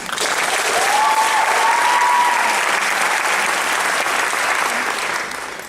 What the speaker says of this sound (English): Let's make some noise for noise.